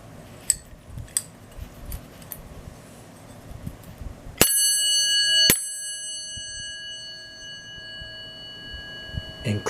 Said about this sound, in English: Okay, that is a Westinghouse Dinner Bell.